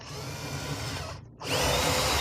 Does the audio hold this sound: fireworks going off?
no